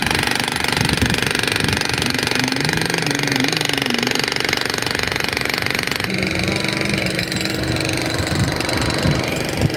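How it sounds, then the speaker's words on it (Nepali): A drill hammers at a construction site, a loud, rapid, continuous pounding with an engine-like drone underneath that runs for the whole stretch without pause. "ड्रिल हान्दैछ पुरा"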